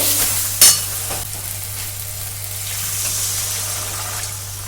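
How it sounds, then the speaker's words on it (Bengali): Water goes into sizzling spice masala in a pan for a Bengali fish curry with cauliflower and potato, setting off a sharp hiss and bubbling that settles into a steady close simmering sizzle, with no talking. "এবার কিন্তু এতে আমি প্রয়োজন মতো জল দিয়ে দেবো।"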